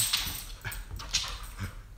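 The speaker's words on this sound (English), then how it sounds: "Oh yeah, dogs are playing right now," Golden retrievers playing together, with short whimpers, soft yips and scuffling bursts close by and at moderate loudness, and no talking.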